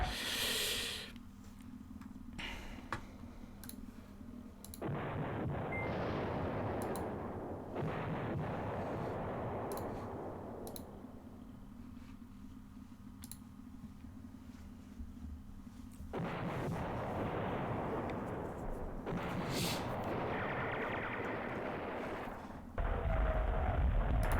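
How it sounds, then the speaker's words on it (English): Sustained artillery and gunfire rumbles in bursts against an infantry gun platoon in the World War II war game Command Ops 2 at the Battle of Elsenborn Ridge, heavy and continuous with brief quieter gaps. "my infantry gun platoon over here is getting fired upon, actually suffering casualties"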